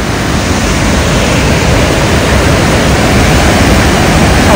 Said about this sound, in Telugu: ఒక్క గేట్ ఎత్తుతేనే చూడండి ఎంత నీరు ప్రవహిస్తుందో